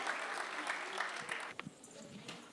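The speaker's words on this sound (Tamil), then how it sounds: "ஜோரா இன்னொரு கைத்தட்டலை கொடுத்துடலாம் அவங்களுக்கு" An audience applauds after a children's drama and song performance, a dense burst of clapping that fades out within a couple of seconds, leaving a few scattered claps and faint murmurs.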